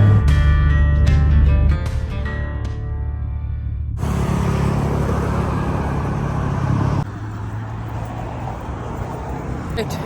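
Traffic rumbles beside a busy road as vehicles pass and idle, with the loudness shifting from one stretch to the next, and someone talks over it.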